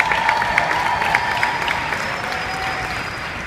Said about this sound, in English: so big hand of applause to them.